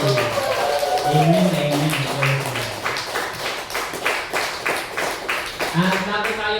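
A church congregation claps in a fast, steady rhythm throughout, close and lively, while a voice speaks over the clapping.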